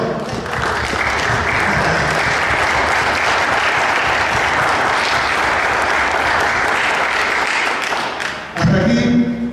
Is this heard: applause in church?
yes